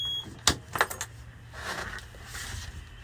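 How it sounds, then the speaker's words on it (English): An ignition key on a boat with a Nanni 375 HE marine diesel is turned to off, giving a sharp click followed by a few light metallic jangles of the key ring, then quiet ambient hiss. "Return the ignition switch to off."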